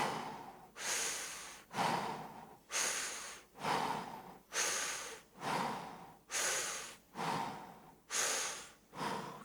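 A person breathes deeply during a stretching exercise, with about ten slow, even, close breaths repeating in a steady rhythm, each a loud airy rush that fades away before the next.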